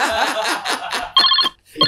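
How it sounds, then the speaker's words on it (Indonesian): A telephone rings in two short electronic bursts separated by a brief gap, loud and close, following a stretch of chuckling and talk. "ada telepon"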